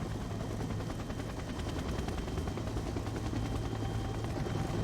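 Rotor thump of a helicopter in Splinter Cell: Double Agent, a steady dense chopping drone holding at even loudness throughout with no pause.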